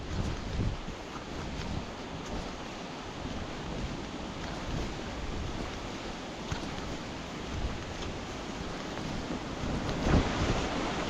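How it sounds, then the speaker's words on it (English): Rushing water from a waterfall pours down in rainy weather, a steady broadband roar close by, with wind buffeting the microphone and no voices. "Water's gushing down with raining."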